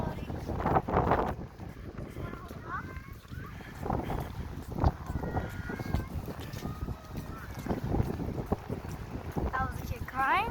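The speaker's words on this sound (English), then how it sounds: "It's pretty windy out here." Wind blows outdoors on a gusty day, buffeting the microphone with a steady low rumble, while people talk and a baby makes faint sounds over the noise.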